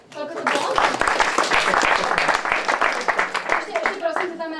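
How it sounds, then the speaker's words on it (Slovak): An audience applauds after a short presentation in a training session on presentation skills, with dense clapping that stays strong throughout and then thins a little toward the end. "super, potlesk, koľko to bolo."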